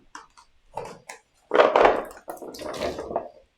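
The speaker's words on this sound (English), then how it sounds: "We're going to add just a little bit of water." Water poured into a pot of beef stew with broth, carrots and potatoes, a few short splashes giving way to a steady, close pouring stream lasting a couple of seconds.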